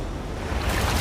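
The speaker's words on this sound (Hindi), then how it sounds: "ये आई बड़ी लहर" A big ocean wave breaks near a small island, a loud roaring rush of surf that swells over about a second, mixed with wind buffeting the microphone.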